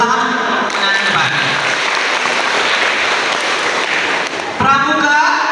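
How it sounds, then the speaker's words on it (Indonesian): Children at a three-day scout camp give a loud round of applause that lasts several seconds, with voices speaking briefly before and after it. "Tepuk tangan yang depan."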